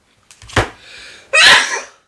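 A single sharp sneeze, preceded by a quick inhale and short gasping breaths, loud and close.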